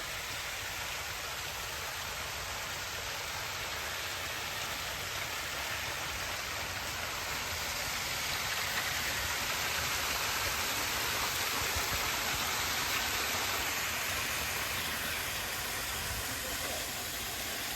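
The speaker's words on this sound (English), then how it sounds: "This is, if you can hear me, Routin Linn Waterfall." Routin Linn waterfall pours in a steady, broad rushing roar that fills the whole stretch evenly, close and loud, with no breaks.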